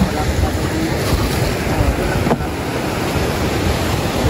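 Rough sea waves break and wash continuously near the shore, a loud broadband rush mixed with wind buffeting the microphone, steady throughout.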